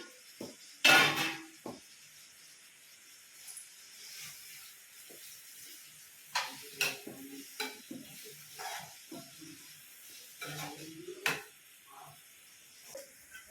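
Paneer pieces frying in a pan for a paneer curry, a soft steady sizzle with intermittent scraping stir strokes and a few clinks of utensil against the pan, no talking.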